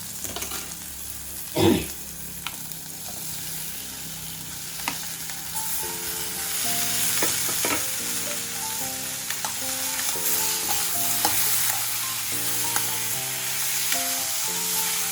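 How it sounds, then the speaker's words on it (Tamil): Tomatoes, onion, green chili, dried chili, ginger and garlic sautéing in a pan for a Madurai hotel-style tomato mint chutney, giving a steady sizzle with a loud clatter early on and then repeated stirring scrapes, no voices. "இனி தக்காளி வெங்காயம் பச்சை மிளகா வத்தல் இஞ்சி பூண்டு இது எல்லாமே ஓரளவுக்கு நல்லா ஸ்மாஷ் ஆகிற வரைக்கும் வதங்கட்டும்"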